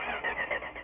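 A car engine cranks and catches in a steady mid-pitched whir, close by and continuous for under a second, with no speech over it.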